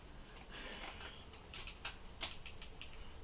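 An Okuma Helios SX spinning reel's drag gives off a short run of soft, quiet clicks, a few light ticks in quick succession against a faint background hiss.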